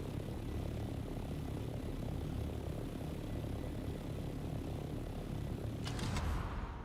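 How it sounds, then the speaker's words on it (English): Aircraft in the video game Dune Awakening on a long flight back to base, a continuous droning engine hum holding steady and loud, with a brief brighter rattling burst near the end, no voices. "Now the long flight back to base."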